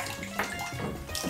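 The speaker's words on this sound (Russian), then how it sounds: "Воду надо набрать, пока бурлит, набирается." A bathtub fills from a running tap, a steady close gush of water churning and bubbling continuously without a break.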